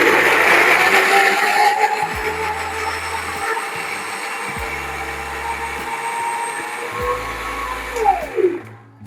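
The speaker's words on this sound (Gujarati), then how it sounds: "હવે આપણે ચડાવી દઈએ મિક્સર પર" A kitchen mixer grinder purees fresh red tomatoes into a gravy for rajma, running as a loud steady whirring motor whine with a low hum before winding down and stopping near the end.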